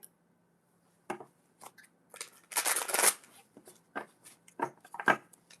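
Close, quiet card shuffling: scattered papery snaps and taps with one longer riffling burst in the middle, no talking.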